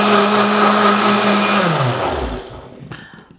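A blender whirring loudly as it purées a red pepper coulis sauce, a steady motor drone that winds down and stops, followed by a brief clack.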